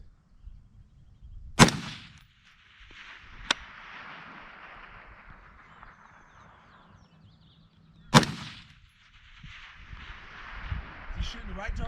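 Sharp gunshots from a BCM KD4 SPR long-range carbine fired at targets during a sniper challenge, three distinct loud cracks spaced several seconds apart with echoing decay, and people talking between shots.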